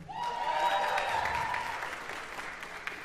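Applause from a high school spring concert audience for a singer of the Lancer Singers, steady clapping with some voices and crowd noise underneath that slowly fades.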